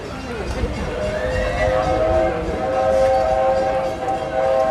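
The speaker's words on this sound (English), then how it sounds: "You hear the train." The Magic Kingdom park train passes close by with a steady, loud rumble and sustained horn or whistle tones, while people talk in the background.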